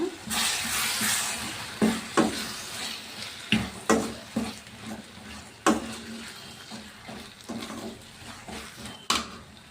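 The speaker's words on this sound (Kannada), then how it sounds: "ಒಂದು ಅರ್ಧ ಸ್ಪೂನ್ ಅರಿಶಿನ ಒಂದು ಸ್ಪೂನ್ ಸಾಂಬಾರು ಪೌಡರ್ ಇದು ಹಾಕ್ಕೊಂಡು ಚೆನ್ನಾಗಿ ಮಿಕ್ಸ್ ಮಾಡ್ಕೊಳ್ಳೋಣ" Turmeric and sambar powder are stirred into a frying pan for a fenugreek greens stir-fry, with a soft sizzle under repeated close clanks and scrapes of a spoon against the pan.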